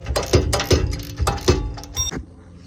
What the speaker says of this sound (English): Nope, we're hand wrenching it today.